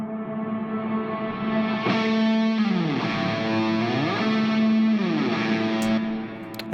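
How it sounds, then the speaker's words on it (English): A guitar hit from the opening of a Cubase session, soaked in heavy reverb and played in reverse, swelling as a loud, distorted, echoing wash with sliding harmonic tones before it cuts off sharply. "I took the first hit, drowned it in reverb, bounced that, and then reversed it"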